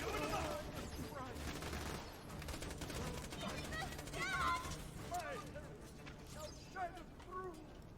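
Automatic sentry gun in Borderlands 2 firing rapid bursts amid a dense game battle soundscape, steady gunfire layered with other effects and voices talking over it throughout.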